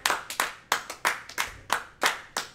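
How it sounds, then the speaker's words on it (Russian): Scattered hand claps from a small group of onlookers cheering on a livestream, sharp separate bursts arriving in an uneven rhythm, close and fairly loud with no talking. "Никогда не слышал более долгих аплодисментов."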